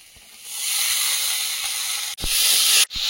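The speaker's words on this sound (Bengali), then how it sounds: "এবার বরবটিটা দিয়ে দেবো।" Yardlong beans hit hot oil in a pan on a clay stove and set off a loud, steady hissing sizzle. It swells after half a second and breaks off twice with brief stirring knocks before resuming.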